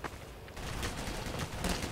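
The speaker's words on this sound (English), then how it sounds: "Taking fire from the Germans!" Scattered gunfire in a World War 2 battle in Garry's Mod, a dense burst of distant rifle and machine-gun shots, moderately loud and with no talk.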